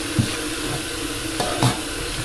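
Water draining down a kitchen sink drain after a home cleaning treatment, a steady rushing wash with a few soft knocks and gurgles near the start and middle.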